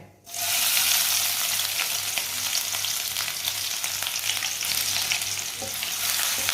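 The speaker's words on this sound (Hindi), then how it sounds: "प्याज को हल्का सा ब्राउन कर लेंगे।" Finely chopped onion hits hot oil and fries with a loud, steady sizzle that starts suddenly and continues close up, with faint stirring sounds.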